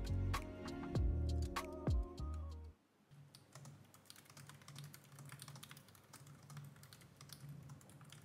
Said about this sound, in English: pressing the escape key with the function key will change the function keys to work as standard